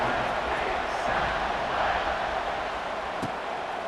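A football stadium crowd roars steadily before a kickoff, a dense and unbroken wash of many voices that stays at one level throughout.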